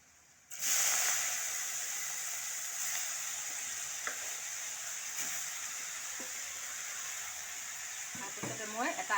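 Leafy greens, banana-flower-style shak, hiss and sizzle in heated oil in a home kitchen, a steady bright frying noise starting abruptly and running throughout with a few light clinks of stirring near the end.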